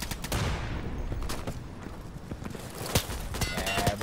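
Gunfire in the tactical shooter Insurgency, a rapid burst of sharp cracks up front followed by a few scattered single shots, loud and close.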